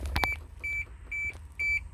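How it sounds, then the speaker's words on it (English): A 1989 Isuzu Trooper's electronic chime beeps four times at an even pace, a clear high tone over the low hum of an idling engine, after a couple of knocks. "the beep is coming from that thing."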